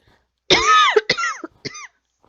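A single person coughs in a short burst of three harsh, close coughs, the first the longest, followed by quiet.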